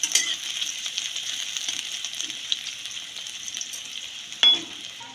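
Onions and tomatoes frying in oil in a pan, a close, steady sizzle with light crackling and faint stirring, followed near the end by a short metallic clink.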